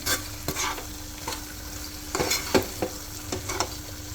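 A utensil scrapes and stirs through food with amchur (dried mango powder) in a pan, with irregular knocks and clatters over a steady low sizzle.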